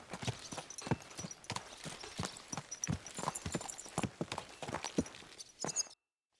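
Horse hooves clip-clop in a steady walking rhythm in the video game Kingdom Come: Deliverance II, close and distinct, continuing for several seconds before stopping abruptly.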